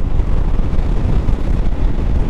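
Strong wind buffets the microphone on an island beach in the early morning, a steady loud low roar with gusting rumble throughout and no voices.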